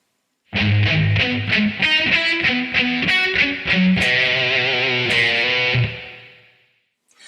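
A varied take on the riff on overdriven electric guitar: steady picked notes with a changed second section, closing on a held ringing chord that decays, loud with no voices.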